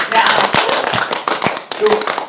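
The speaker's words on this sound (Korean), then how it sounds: "역시 박수." Hands clapping in applause on a Korean talk show, a quick burst of dense, crackling claps mixed with people talking over it.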